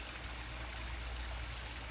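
Water pours steadily through a pond drain with an airlift skimmer, a continuous close rushing trickle with no talk over it.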